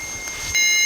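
A REM pod ghost-hunting device gives off a steady, thin electronic tone for under a second, faint against a dull outdoor background hiss.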